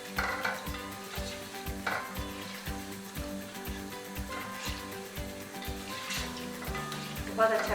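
Gulab jamun frying in oil in a pan, a steady low sizzle with repeated rhythmic stirring or spoon scrapes throughout, with faint kitchen clatter near the end.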